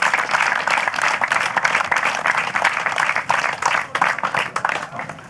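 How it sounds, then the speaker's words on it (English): Audience clapping for the competing teams at the Scandinavian Masters event, a sustained round of many hands with fluctuating intensity and sharp individual claps standing out, heard alone without talk. "give everybody a clap here"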